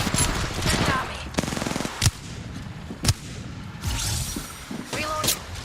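Video game gunfire crackles in bursts, with rapid machine-gun rattles and several sharp single shots and impacts, loud and close, while a voice talks intermittently underneath.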